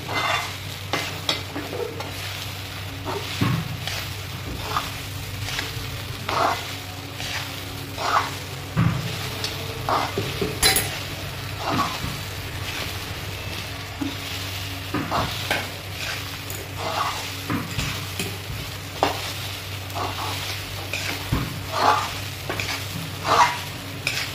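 Sabudana usal being stirred in a pan, a steady sizzle with repeated scraping strokes of a spoon across the metal, close and continuous throughout, with no talking.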